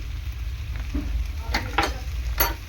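Maggi noodles being stirred with tomato sauce in a pan, a soft steady sizzle with a few scraping strokes of a spoon against the pan, heard close with no talking.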